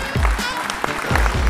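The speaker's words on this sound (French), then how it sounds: "on l'applaudit bien fort." An audience at the mayor's New Year reception in Ivry-sur-Seine claps briefly and steadily, with voices mixed into the applause.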